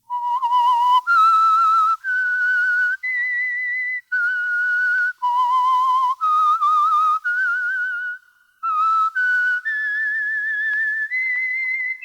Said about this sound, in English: Let that whistle be your signal